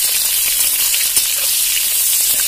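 Onions frying in hot oil for prawn curry, a loud continuous crackling sizzle with a bright hiss, close and steady throughout with no voices.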